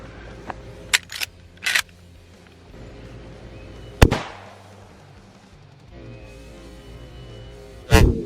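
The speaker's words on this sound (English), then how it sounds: "first shot with the core locked 30-30" A 30-30 rifle fires a 150-grain Core-Lokt round into a cinder block outdoors, giving one loud sharp crack with a decaying tail. A few light clicks come before it, and another hard burst lands near the end.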